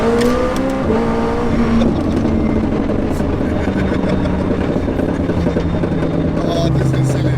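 A McLaren 765LT fitted with nitrous oxide revs hard up close, its loud engine note rising and falling over a continuous roar, with voices talking over it.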